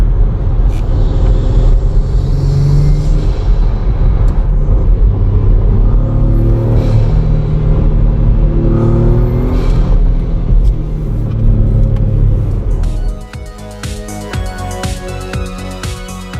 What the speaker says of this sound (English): So we're now driving with the cover off of the intake.